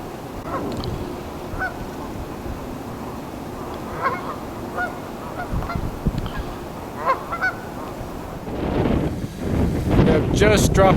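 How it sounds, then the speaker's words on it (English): A large flock of wild geese honking outdoors in winter, with scattered calls throughout and a denser, louder burst of honking near the end over steady wind noise on the microphone. "thousands of geese"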